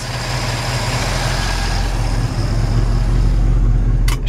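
A 1967 Pontiac Firebird V8 engine with an Edelbrock carburetor and intake idling steadily under the hood, a close, even low rumble that holds throughout, ending with a faint click.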